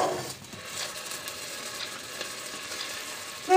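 Ground meat browning in a frying pan for chili mac, giving a steady, close sizzle and crackle that runs throughout with no talking.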